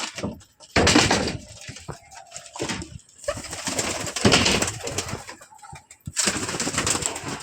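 Pigeons on a rooftop loft in the morning coo softly and intermittently, mixed with rustling, a few wing flaps and knocking sounds nearby.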